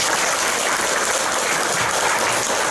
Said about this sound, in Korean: 누군지 모르지만 그 사람을 위해서 한번 박수 쳤으면 좋겠어요